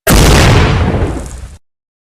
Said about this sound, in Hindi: और कुछ ही पलों बाद एक धमाके के साथ यान हवा में उठा